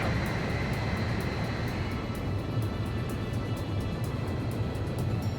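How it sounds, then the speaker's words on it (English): Steady, loud engine roar of a transport plane making an emergency landing in Ace Combat 5: The Unsung War, a low rumbling drone that holds constant throughout, like a large plane close by. "The transport plane is ready for an emergency landing."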